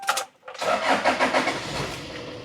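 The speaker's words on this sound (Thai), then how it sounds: "เดี๋ยวลองสตาร์ทเครื่องยนต์ฟังเสียงกันดูนิดหนึ่งนะครับ" A Toyota Sport Rider 3.0G 4x4 pickup engine cranks briefly, catches and starts, then settles into a steady, fairly loud running rumble close by.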